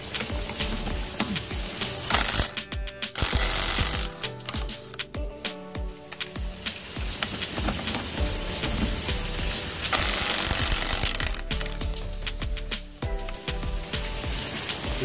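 A cheap impact wrench works on tight lug nuts on a Nissan B13 Sentra during a brake upgrade, firing in several short, harsh hammering bursts separated by quieter pauses of clicks and handling.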